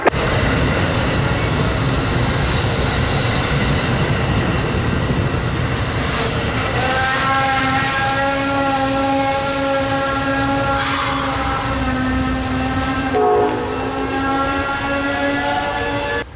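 An Amtrak passenger train departs Bloomington with loud steady rumble and wheel noise close by, and several long sustained horn blasts ring out over the rolling train.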